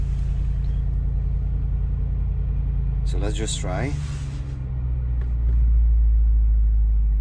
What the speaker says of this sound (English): you can control the sound of the exhaust